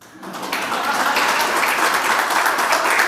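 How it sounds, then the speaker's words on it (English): An audience claps together: after a brief quieter start, dense, steady applause swells and holds at a fairly loud level with no voices over it. "Till you clap your hands."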